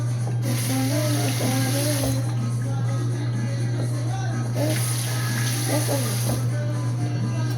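Tap water runs steadily over an avocado at a kitchen sink, a constant close splashing hiss with a low hum underneath and a faint voice in the background.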